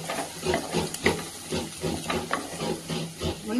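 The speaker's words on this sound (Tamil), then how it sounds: "வெங்காயம் வதங்கிட்டு இருக்கு" Onions sautéing in a pan for a Tamil kootu dish, a soft steady sizzle with occasional stirring scrapes and clinks, moderately close and quiet, with no talking.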